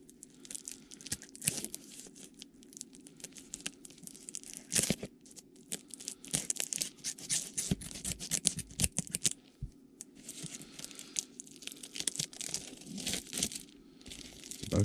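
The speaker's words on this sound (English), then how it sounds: "Maybe if I cut this part of the plastic." Plastic wrapping on a 1996 Fleer USA Basketball 3D trading card box being cut open, with irregular close crinkling, tearing and snipping sounds in uneven bursts, alone and fairly loud throughout.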